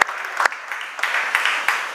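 Church congregation claps in short, uneven bursts of applause during a sermon, a brief moderately loud patter lasting a couple of seconds.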